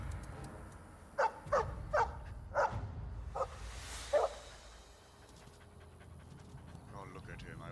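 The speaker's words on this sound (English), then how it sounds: "Oh, it's a puppy. It's a puppy dog." A dog in the video game Dragon Age: Origins gives six short, evenly spaced barks over soft panting, then falls quiet against low ambient game sound.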